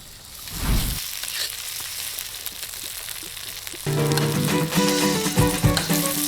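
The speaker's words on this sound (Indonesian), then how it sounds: "Sayok dicampurkan ke dalam bumbu woku yang sudah ditumis harum." Sayok being cooked in sautéed woku spice paste, a loud steady sizzle that swells as more goes into the hot pan, with scraping stirs and no talk.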